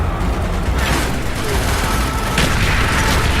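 Battlefield din from the shooter Call of Duty Black Ops set in the Arctic Circle, a loud continuous roar of distant booms and gunfire with a couple of sharper blasts, voices faintly mixed in.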